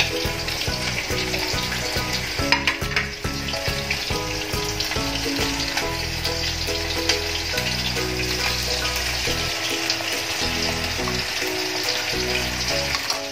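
Vegetable Manchurian balls deep-frying in hot oil, a steady close sizzle and bubbling that runs unbroken throughout, with a few faint clinks mixed in.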